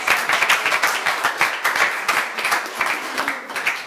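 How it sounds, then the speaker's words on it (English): Audience applause at a gallery exhibition opening, a room of people clapping steadily for about four seconds, dense and fairly close, with no talk over it. "you deserve a special round of applause"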